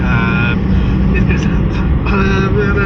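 Suzuki Wagon rental car driving on Sri Lankan roads, a steady loud engine and road rumble throughout, with tonal whines rising and fading over the constant drone.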